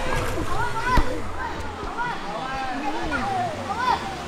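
A person steps into river water at Gunung Belumut in Kluang, making light splashes and sloshing against a flowing stream, with people chatting close by throughout.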